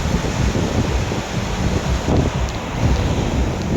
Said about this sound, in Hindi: ये मेरा भाईंदर का भी समुद्र है, बॉम्बे का भी समुद्र है